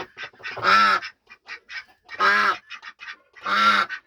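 Domestic ducks, including Saxony ducks, quack loudly and close by in three strong calls, separated by softer short quacks.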